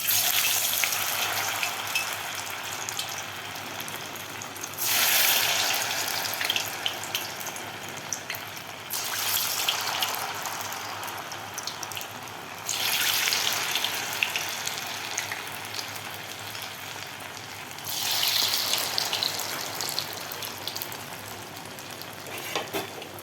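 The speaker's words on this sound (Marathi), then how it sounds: "आपण जे कॉर्नफ्लॉवरची स्लरी तयार केलेली होती त्यामध्ये आपल्याला हे डिप करून समोसा रोल आपल्याला तळून घ्यायचे आहेत" Samosa rolls dipped in cornflour slurry fry in hot oil, giving a steady loud sizzle that swells in a few surges as pieces go in, with no voices.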